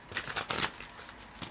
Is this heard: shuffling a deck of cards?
yes